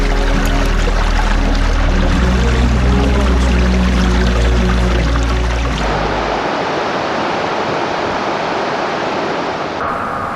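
A river rushes beneath a bridge in the Rocky Mountains near Wells Gray Park with a loud, steady broadband roar of flowing water. A low droning hum sits over the first half, then the water is heard alone.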